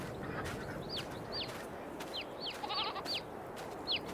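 Baby goats bleat in a farming video game, short high calls repeating every half second or so over a steady ambient bed of farm background noise.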